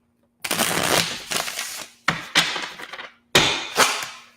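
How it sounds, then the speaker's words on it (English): Tarot cards shuffled by hand in three close, crisp bursts of riffling and flicking, each a second or so long with brief pauses between, loud and alone. "Another shuffle in there."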